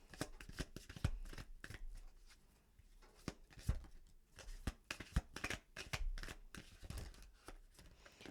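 Tarot cards shuffled by hand in close, quiet bursts of riffling and flicking, with sharp taps of cards being squared and soft pauses between bursts.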